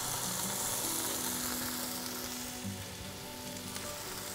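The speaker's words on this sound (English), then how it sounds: "When the pan's very hot, put the lamb straight into the pan and hear it sizzle." Lamb dropped into a very hot pan gives a steady, fairly quiet hiss and sizzle with no talking.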